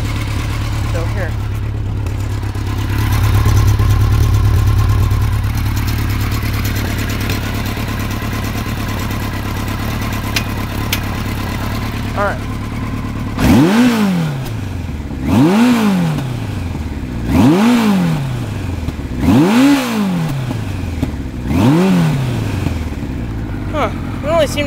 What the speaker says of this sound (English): when I rev it up really high, it makes a really bad, like, popping noise